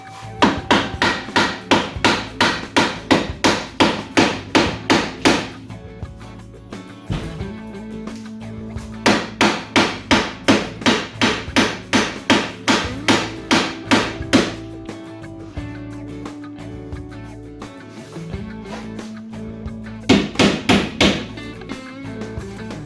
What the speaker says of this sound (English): So I'm just going to try and lightly hammer it down.